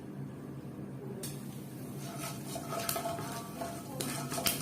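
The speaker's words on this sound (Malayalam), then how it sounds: "ചൂടായ എണ്ണയിലേക്ക് നമുക്ക് ഉലുവട്ട് കൊടുക്കാം." Fenugreek seeds hit hot oil in a pan, raising a soft steady sizzle that swells after the first second, with occasional scrapes and light clinks of a utensil against the pan.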